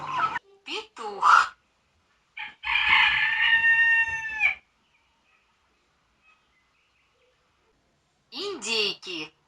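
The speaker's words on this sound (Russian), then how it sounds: "Петух." Rooster crowing on a farm, one long harmonic cock-a-doodle-doo ringing out clearly after short spoken bits, with more talking near the end.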